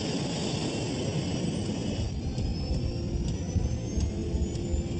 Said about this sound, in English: The A380 is powered by 4 massive Rolls-Royce engines.